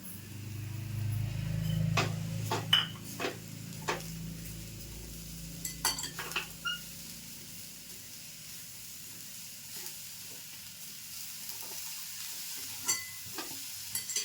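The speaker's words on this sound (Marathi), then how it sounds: "आता मी गूळ पण टाकून घेते आणि थोडी साखर पण" Fresh grated coconut filling with jaggery and sugar cooks in a pan for karanji, giving a soft low sizzle with a spoon scraping and stirring and occasional light metallic clinks against the pan.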